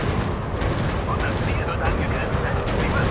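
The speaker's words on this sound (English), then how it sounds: "Yeah, it's a bomber. He's dropping bombs." Bombs dropped from a bomber explode in a WW1 virtual reality flight game, a dense, continuous rumble of blasts and gunfire-like bursts filling the scene at high volume.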